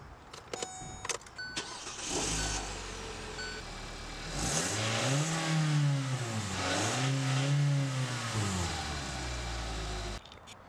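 A 2017 Hyundai Tucson idles and then revs twice in clear sweeps, the engine climbing and falling in pitch each time before settling, heard close and fairly quiet with a brief start-up clatter at the beginning.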